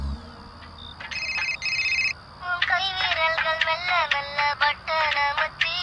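A phone ringtone plays nearby in repeated electronic bursts, first a short chiming pattern, then a faster warbling melody looping several times.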